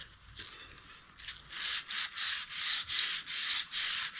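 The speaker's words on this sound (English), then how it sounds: "We're gonna sand that." Hand sanding of a bicycle rim on a vintage Schwinn: a close, rhythmic series of about eight rasping back-and-forth strokes, rising after a quiet start and steady in pace.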